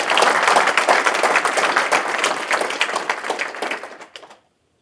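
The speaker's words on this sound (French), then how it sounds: "Je voudrais qu'on les applaudisse encore très fort." A conference audience gives sustained, vigorous applause, many hands clapping densely before it tapers off and stops abruptly.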